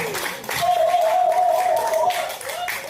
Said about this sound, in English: Clap yourself, everybody.